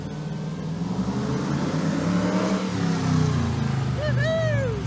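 A 1975 Ford Ranchero drag car's engine drones and revs steadily nearby in the street, loud and continuous, with a car alarm starting to whoop near the end.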